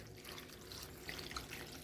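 Water runs steadily from a tap with a soft hissing splash, faint and continuous, with no voices.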